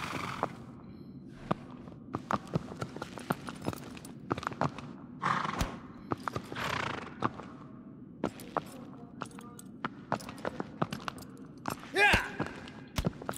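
Horse hooves clip-clopping in the video game Shadow of the Colossus, irregular hollow clops and thuds scattered across the stretch, some close and sharp, with a few breathy bursts and a person talking in places.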